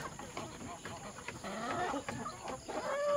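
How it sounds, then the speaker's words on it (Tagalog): Backyard chickens, including a black Australorp, cluck softly and intermittently at a moderate distance while someone talks over them. "grabe ang busog sa ating mga alagang manok dito guys"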